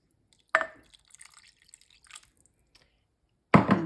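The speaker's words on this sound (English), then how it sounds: "So I'm going to go ahead and add 2 cups of water because we like ours very soupy." Water poured into a pot of potatoes and broth, two brief splashing pours separated by quieter drips and small trickles, close and clear.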